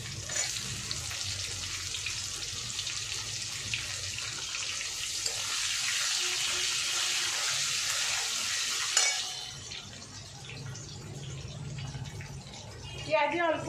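Onions hitting hot oil in a wok already spiced with fried cumin, giving a loud steady sizzle that fades after several seconds, with softer frying and stirring and a voice speaking over it.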